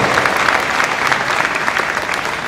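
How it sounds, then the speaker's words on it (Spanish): Dense, steady applause fills a graduation ceremony hall at CETMAR Puerto Peñasco in 2019, a crowd clapping continuously at even loudness throughout. "Démosle un caluroso aplauso."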